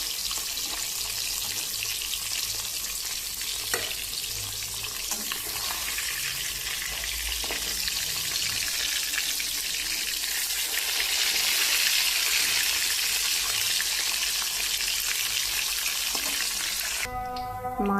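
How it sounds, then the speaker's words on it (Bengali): Rohu fish pieces fry in hot oil with a steady, dense sizzle close by, continuing without pause for the whole stretch; a brief clink sounds near the end. "মাছ ভাজিটা আমার প্রায় হয়ে আসছে।"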